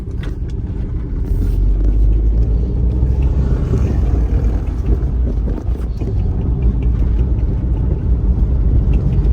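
An old car with 300,000 miles and rusty brakes that had been sitting a long time drives along, giving a loud, steady low rumble of engine and road noise heard from inside the vehicle throughout.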